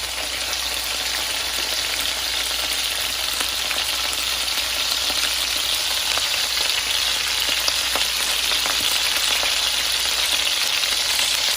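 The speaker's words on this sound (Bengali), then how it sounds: "আমি একে একে মাছগুলো ফ্রাইয়ের জন্য দিয়ে দিলাম" Fish frying in a pan, cooked plain without turmeric, gives a steady, dense sizzle that stays loud and even throughout with faint crackles and no talking.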